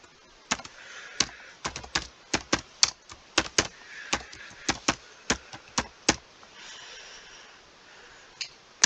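Individual keys are struck on a computer keyboard, crisp close clicks at an uneven, unhurried pace, with a quiet pause before a final couple of taps.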